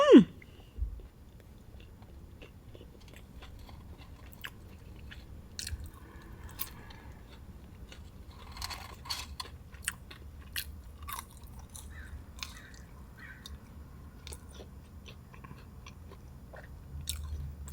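Close, quiet chewing and crunching of McDonald's McNuggets, cheeseburger and fries, with soft irregular bites and mouth sounds running through the whole stretch.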